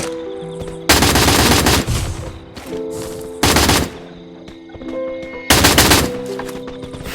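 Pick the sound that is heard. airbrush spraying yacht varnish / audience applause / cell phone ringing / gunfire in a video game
gunfire in a video game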